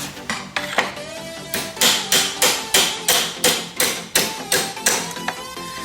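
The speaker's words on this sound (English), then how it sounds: "I'm hitting the other end of it with this mallet to try to get more of the axle" Sharp metallic mallet strikes on a long-end wrench, driving the front axle out of a 2009 Yamaha R6 sportbike, about a dozen evenly paced ringing hits, close and loud with no talk.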